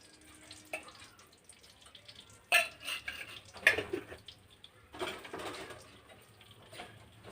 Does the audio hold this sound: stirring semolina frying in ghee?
yes